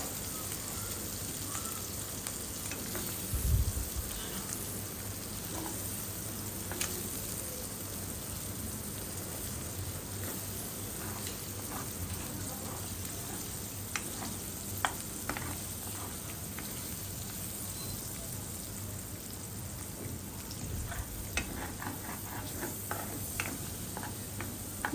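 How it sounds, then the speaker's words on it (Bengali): Egg sizzling and frying in a pan with vegetables for chow mein, steady soft crackle throughout with occasional scraping stirs, fairly quiet and without talk. "পনেরো 20 সেকেন্ড পরে আমি ডিমটা আস্তে আস্তে নেড়ে দিব।"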